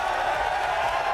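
A large arena crowd at the Halo World Championship cheers in a steady, dense roar that holds loud and unbroken throughout.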